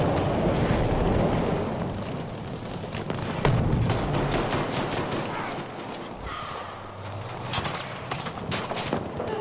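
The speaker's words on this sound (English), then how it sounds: "Pistol flamethrower." Flamethrower pistol firing in Battlefield V, a sustained roaring whoosh of flame laced with sharp crackles and gunfire-like bursts, loud and continuous with a few heavier booms.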